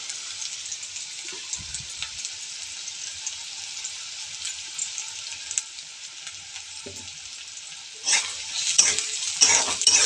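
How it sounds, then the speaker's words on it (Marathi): Chopped onion frying in a pan until pinkish, a steady close sizzle running throughout, with stirring scrapes and a louder, busier crackle toward the end; no talking. "कांदा पण अगदी गुलाबी कलरचा मस्त फ्राय करून घ्यायचा आहे."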